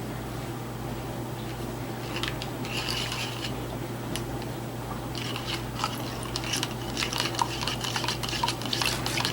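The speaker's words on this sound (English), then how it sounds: "I'm going to go ahead and stir up my oatmeal." A spoon stirs oatmeal with real sugar in a bowl, producing soft, steady wet scraping and clicking against the dish, close up with a low background hum and no talk.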